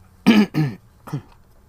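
A person clears the throat in a few short, rough bursts, close to the mic. The first two come quickly together and a smaller third follows after a brief gap, with no speech.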